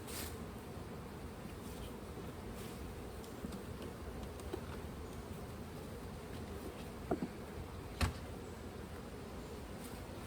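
A soft, continuous hum of many honey bees buzzing close by around an open hive during an inspection, with a few faint clicks and knocks scattered through.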